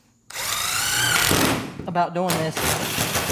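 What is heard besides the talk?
power drill drilling holes in truck hood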